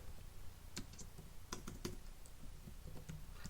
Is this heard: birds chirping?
no